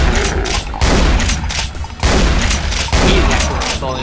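Dense, rapid gunfire fills a chaotic video game match, loud and near-continuous in heavy volleys with brief lulls, and a voice talks faintly beneath; no reload clicks stand out.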